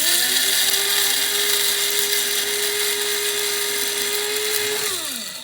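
Electric spice grinder whirring steadily on a load of spices, loud and close, a constant high motor whine for about five seconds before spinning down at the end, no talking.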